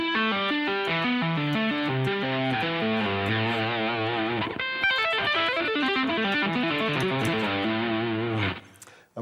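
An electric guitar, distorted, plays a fast tapped pentatonic lick with pull-offs, slides and hammer-ons, forming a quick flowing cascade of notes that fades out at the end, with no talk.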